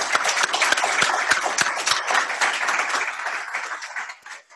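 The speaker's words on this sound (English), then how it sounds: "So a round of applause." A Q&A event audience applauds its panel, close sharp claps in a brisk burst that gradually fades out over a few seconds.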